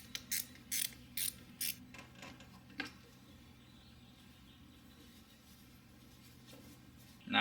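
A wrench loosens the two 10mm bolts on a battery cable connector of a 2007 Toyota Highlander Hybrid, giving a quick run of sharp ratcheting clicks, close and fairly faint, followed by a quiet stretch.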